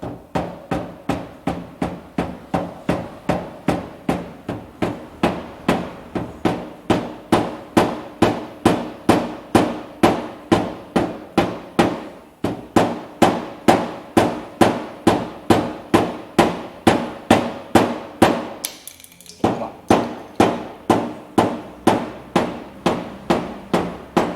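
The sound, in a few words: rubber mallet tapping out a dent with small blows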